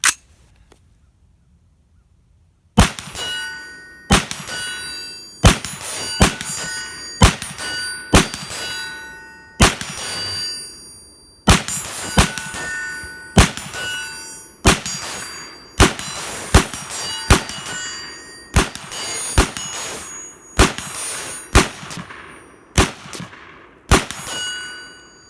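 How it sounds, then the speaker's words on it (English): A 10.5-inch Palmetto State Armory AR pistol fires about 20 standing shots at a steel gong 50 yards away, each crack followed by a ringing metallic clang, in an uneven rhythm after a brief quiet start. "We're gonna take 20 shots standing at the steel gong."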